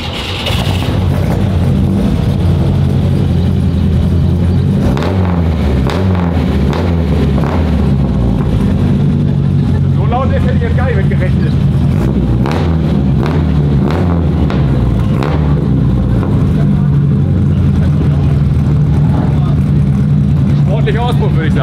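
A classic BMW 02 with Solex carburettors drives along, its engine loud and continuous as it revs up and down in repeated surges, with voices talking over it.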